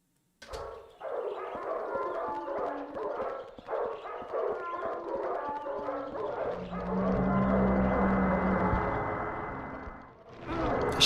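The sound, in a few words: dogs barking outside, from the video game Silent Hill 4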